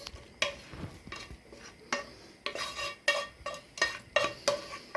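Fried minced meat being stirred in a pan for a börek filling, heard as a rhythmic series of close scraping and clattering strokes of a utensil against the pan over a faint sizzle.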